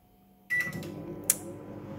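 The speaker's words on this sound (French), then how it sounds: "j'enfourne ça au micro-ondes. 2 minutes, ça devrait le faire" A microwave oven heating a dish topped with grated cheese switches on with a sudden broadband hum and a steady tone, then runs with a continuous low drone and a brief sharp click partway through.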